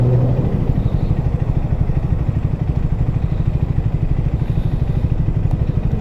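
Steady, loud engine drone of a Triumph Speed 400 motorcycle being ridden, a continuous low throbbing hum with wind rush and no pauses.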